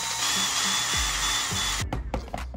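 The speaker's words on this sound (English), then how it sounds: "Flip the wheel over, and we gotta take these 6 screws out." A small power driver whines steadily up close while backing six screws out of the brake rotor on an RC motorcycle wheel being fitted with aluminum hubs, then stops and is followed by a few light clicks and handling sounds.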